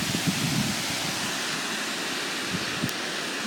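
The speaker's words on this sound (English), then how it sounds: "You can see the water from here flows back into the natural banks of the creek." Steady broadband rush of water flowing from a lake dam spillway into a creek, a constant outdoor roar with wind buffeting the microphone and no talking.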